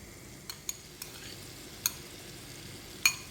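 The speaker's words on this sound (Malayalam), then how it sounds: "ഇനി ഇത് നല്ലപോലെ ഒന്ന് വഴറ്റിയെടുക്കട്ടെ." Cut guava pieces sauté in a pan for payasam: a soft background sizzle punctuated by several sharp clinks of a spoon stirring against the pan.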